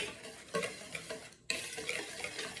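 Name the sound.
whisking flour, salt and dry ingredients for pancake batter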